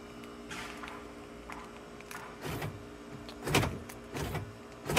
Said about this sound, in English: you can hear it lock and unlock.